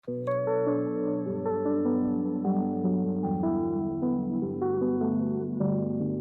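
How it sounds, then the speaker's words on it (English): A synthesized bass guitar tone from the Electra bass preset plays a series of plucked low notes, moving step by step in a steady, smooth melodic line with no other sounds. "I used Electra, a bass guitar preset to get this up."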